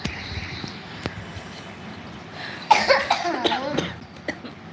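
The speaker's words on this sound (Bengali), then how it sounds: "কাশি পেয়েছে তো কাশবো না, আশ্চর্য।" A few short coughs near the start, then a burst of harsher coughing and throat clearing up close.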